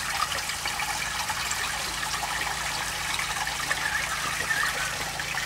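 Water runs steadily between aquaponics grow tanks joined by a 300 mm pipe, a continuous splashing trickle heard up close with no talk over it.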